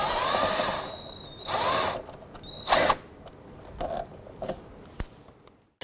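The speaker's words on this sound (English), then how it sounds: "Using a 10mm ratchet, we're going to go ahead and start removing the bolts here that secure the box." Ratchet clicks and tool sounds while a 10mm ratchet loosens bolts on a 2006-2012 Honda Civic, with several short bursts and sharp clicks that fade into quieter handling noise.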